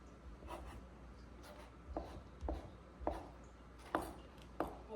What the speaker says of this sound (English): I'm just gonna cut these up into some smaller pieces